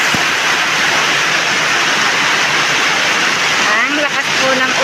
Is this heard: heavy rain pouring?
yes